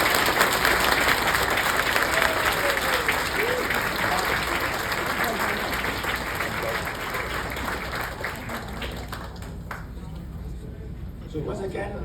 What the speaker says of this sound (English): let's give another big hand of applause for our leader